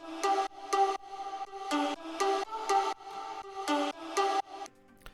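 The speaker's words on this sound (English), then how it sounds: "So now the sidechain sound will sound like this." Synth notes pumped by sidechain-style volume automation in FL Studio, producing a rhythmic series of about ten short chopped chord pulses that swell and cut off abruptly, fairly quiet and alone.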